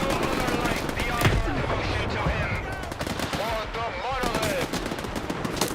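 Rapid gunfire from STALKER 2: Heart of Chornobyl, a sniper rifle among bursts of automatic fire, loud and continuous throughout with dense crackling shots and faint game voices underneath.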